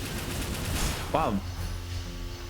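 Rapid gunfire in the side-scrolling game Ender Magnolia: Bloom in the Mist, a steady rattle of shots under game effects, with a short tonal chime cutting through partway.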